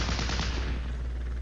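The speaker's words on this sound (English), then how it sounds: "The mechanized infantry fires again and destroys another" Rapid bursts of mechanized infantry gunfire in a multiplayer war game battle at Norderfurt, dense and continuous over a deep low rumble, with no talking.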